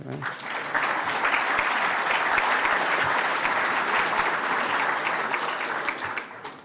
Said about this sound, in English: You could applaud if you wanted to.